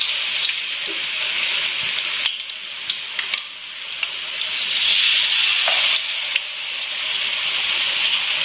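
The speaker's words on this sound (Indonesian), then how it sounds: "sudah goreng peyeknya" Peyek crackers fry in hot oil in a Malaysian village kitchen, giving a continuous bright hissing sizzle with small crackles and pops, steady and close, without speech.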